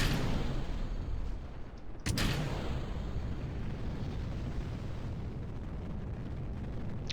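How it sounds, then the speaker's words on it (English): A rocket, the Bilbo 9, lifts off in a New Zealand space agency video game. It gives a loud, steady, continuous roar with a sharp crack near the start, and no one talks over it. "The rocket lifts off without a problem,"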